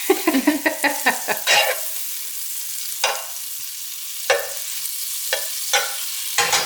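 Butter sizzles in a pan, a rapid run of spattering pops at first, then scattered louder crackles over a steady hiss, with no voices.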